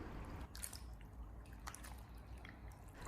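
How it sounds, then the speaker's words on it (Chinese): Soaked dried tofu skin is rinsed by hand in water, giving faint scattered drips and soft splashes that come and go quietly, with no voices. "我们用手将腐竹给它清洗一下，清洗掉上面的一些灰尘和杂质。"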